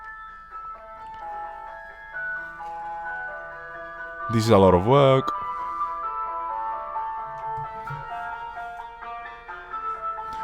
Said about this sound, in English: That's the ice cream truck.